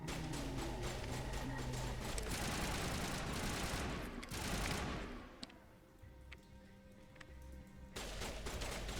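Heavy rolling gunfire during a firefight in the Mass Effect video game, thick bursts of shots that ease into sparser, quieter fire partway through before picking up again near the end.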